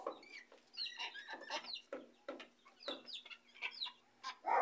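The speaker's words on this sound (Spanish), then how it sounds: "¿Quién sabe qué tanto dice el gallo, no?" Close by, a rooster keeps up a busy, excited stream of clucks and chattering calls in quick irregular bursts, with a low steady hum underneath.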